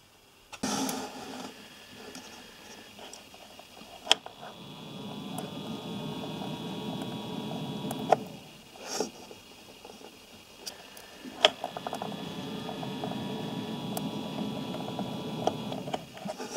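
A ventilation fan in the compartment of a LiFePO4 battery hums softly and steadily once switched on, a faint continuous drone broken by a few sharp clicks.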